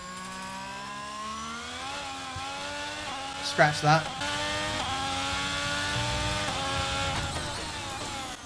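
Alfa Romeo C43 Formula 1 car engine in the F1 22 racing game, a steady high-pitched whine with shifting harmonics running throughout, a couple of brief louder bursts midway, with someone talking over it.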